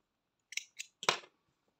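Scissors snip crochet yarn in three quick, close cuts, the last one slightly longer, crisp and isolated against near silence.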